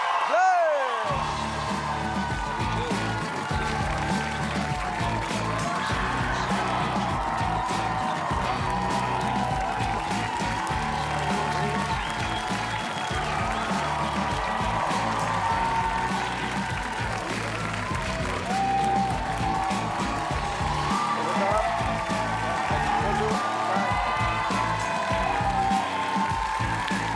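A studio audience applauds a band on a French television talk show, steady dense clapping with cheers and whoops sustained throughout, loud and close.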